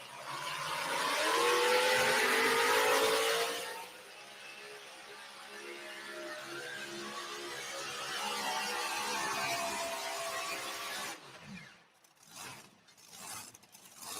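A pulling tractor roars hard during a tractor pull run, a loud, strained engine that fades into rumbling and crackling as the run ends, heard from the stands without talk over it.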